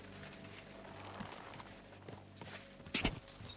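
Horse hooves walking in the Kingdom Come: Deliverance II video game, a soft, faint clip-clop over low ambience that ends in a brief louder clatter.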